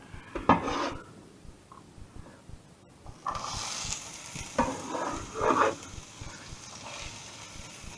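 Minced pork and mushrooms fry in a pan, a steady close sizzle broken by several bursts of spatula scraping and stirring, loudest around the middle; no talking.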